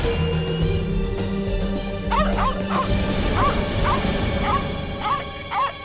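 A dog barks in a short run of sharp, repeated yips and woofs, fairly close, over a dense background of music and ambience.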